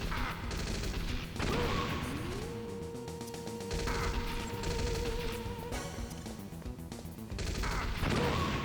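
Grenade explosions and gunfire in Metal Gear Solid special missions, a string of sharp loud blasts and crashes over a sustained game tone, with brief clattering bursts between them.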